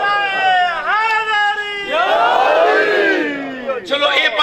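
A majlis crowd chants religious slogans in loud, rising and falling unison shouts, with several distinct surges of massed voices that swell and fade.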